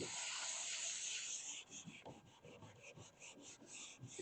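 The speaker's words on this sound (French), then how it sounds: "On ponce avec un 320 et après on attaquera directement du 600 à l'eau" Sandpaper of 320 grit rasping over the painted bodywork of a Peugeot 403 in a rhythmic back-and-forth scrub, close and steady, with someone speaking French quietly underneath.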